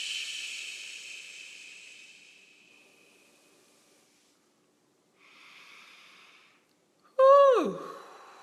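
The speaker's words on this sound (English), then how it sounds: "Exhale through your mouth." A long, deep exhale through the mouth, a breathy hiss fading over a few seconds, followed by a softer second breath and then a brief voiced sigh, close and quiet.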